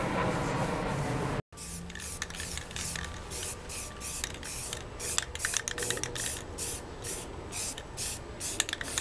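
A spray can or gun lays light coats of primer onto a motorcycle fairing in a steady hiss, broken by a brief gap and then continuing in short repeated bursts close by.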